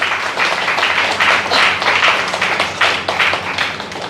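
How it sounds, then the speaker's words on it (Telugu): Loud, steady applause from an audience honouring Patri garu at a meditation gathering, dense clapping sustained throughout without a break. "పత్రి గారికి ఒక్కసారి గట్టిగా క్లాప్ చేసుకుందాం"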